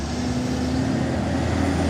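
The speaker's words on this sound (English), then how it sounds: "Yes, it's the garbage truck" A garbage truck passes outside with a steady, loud diesel rumble and low engine hum that holds evenly throughout, with no voices.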